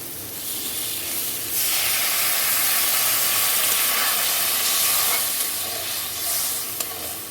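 Water is poured into a pan of potatoes frying in spiced oil for a chital fish kalia curry, giving a loud steady sizzle and hiss that rises into a broad steamy rush and holds, with no talking.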